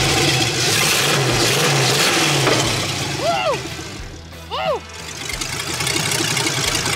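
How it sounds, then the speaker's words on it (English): A Mustang with an LS V8 swap runs loudly up close, its engine rumbling steadily and swelling through revs, with brief high squeals in the middle of the run. "It revs up really strong though."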